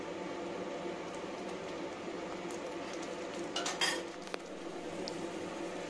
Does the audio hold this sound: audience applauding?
no